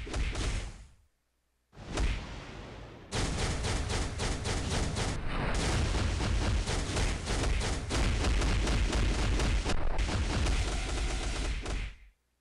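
Captain Marvel's plasma beam attack in Marvel: Future Fight comes through as loud, dense bursts of crackling, rapid-fire blasting, with a brief gap early on, then a sustained barrage that cuts off abruptly at the end.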